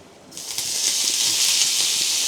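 Oil heating in a pan for chicken, a steady close hiss that rises after a brief quiet start and holds at an even level.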